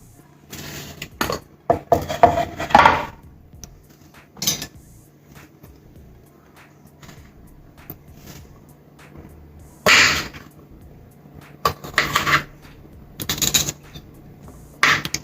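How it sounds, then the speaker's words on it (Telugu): A knife cuts ivy gourds (tindora) lengthwise on a cutting board in irregular bursts of close, crisp chopping taps, separated by quiet pauses. "ముందుగా వీటిని దొండకాయలని కట్ చేసుకోవాలి."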